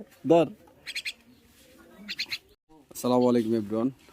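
A hand-tamed myna bird calls up close, giving short, bright chirps and then a longer, harsher, buzzing call.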